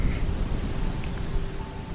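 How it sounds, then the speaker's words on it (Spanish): Torrential rain pours in a dense, continuous roar of drops hitting surfaces, loud and steady with no pauses. "De pronto el torrencial de aquella lluvia se volvió más fuerte"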